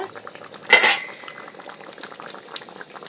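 A metal lid clanks as it is lifted off a pot of rupchanda fish curry, giving one sharp bright clatter, followed by the soft bubbling of the boiling curry and faint utensil clinks.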